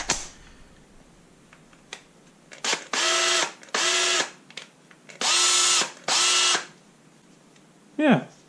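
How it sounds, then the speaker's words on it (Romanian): A cordless micro hammer drill runs in several short, loud bursts of whining motor with distinct stops between them, ending with a quick spin-down, heard up close in a home workshop. "Și acesta este micro rotopercutorul."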